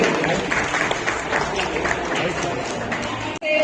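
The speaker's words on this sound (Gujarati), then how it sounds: "તાળીઓ પાડવી જોઈએ કે આટલી મહેનત કરીને લાગ્યા છીએ" Audience clapping at a women's association winter-dish cooking contest, a steady, fairly loud wash of applause that carries on throughout and cuts off sharply near the end.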